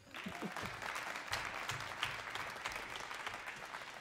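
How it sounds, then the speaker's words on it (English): Audience applause for a U.S. Army Blues jazz musician at a tuba-euphonium workshop concert, steady dense clapping filling the room with a few low thumps and a faint voice underneath. "Clap for him."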